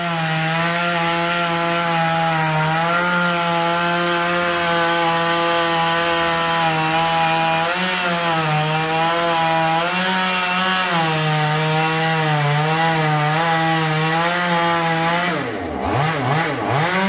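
A chainsaw cuts slowly through a very large trunk of a dầu tree beside a church, its engine holding a steady, loud, close drone for the whole stretch, pitch shifting a little as the bar bogs in the wood, then easing off near the end.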